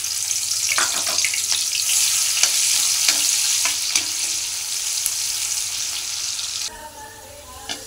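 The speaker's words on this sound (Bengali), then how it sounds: "এবার পেঁয়াজটা ভেজে নেব" Onions frying in hot oil in a wok, a steady loud sizzle running almost continuously with occasional stirring clicks and scrapes, no voices.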